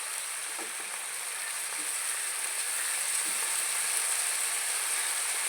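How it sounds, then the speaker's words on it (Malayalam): Tamarind water hitting a hot pan while making a sardine fry sizzles in a loud, continuous hiss with faint stirring clicks underneath, no voices. "എന്നിട്ട് കുറച്ച് പുളിവെള്ളം പുളിവെള്ളം കൂടി ഒഴിച്ചു കൊടുക്കാം"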